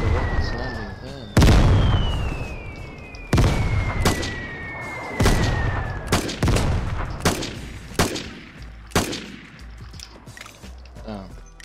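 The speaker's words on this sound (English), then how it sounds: "The rocket's landing there." Rocket explosions in a shooter video game land as a rapid series of loud, sharp blasts, roughly eight booming impacts spaced about a second apart with ringing tails, close and dominant.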